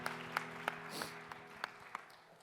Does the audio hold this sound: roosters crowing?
no